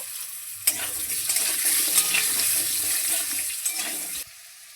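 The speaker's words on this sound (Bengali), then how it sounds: "ফোড়নের মধ্যে কেটে রাখা আলুগুলো দিয়েও আলুগুলো একটু লালচে করে ভেজে নেব" Cut potatoes hit oil tempered with whole spices and sizzle loudly and steadily from about the first second until just before the end, with no talking. They are being fried for a cauliflower curry with bata fish.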